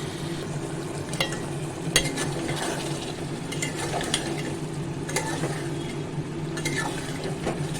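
Turmeric, cumin, coriander and red chilli masala cooks in a pan with a splash of water for a tangra fish curry with tomato and potato, hissing softly and steadily under occasional sharp spatula scrapes and clinks.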